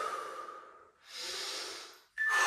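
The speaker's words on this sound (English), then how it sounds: "Deep breaths." Deep, heavy breaths during an interval fat-burning workout, with a long inhale, a pause, another drawn-out breath and then a sharp intake, all close and alone.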